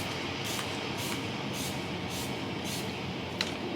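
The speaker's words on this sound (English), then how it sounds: "Now I'm going to spray my face with Urban Decay All Nighter" Several quick, hissy bursts of Urban Decay All Nighter setting spray misting onto a face, spaced roughly half a second apart, close and soft, over a steady background hum.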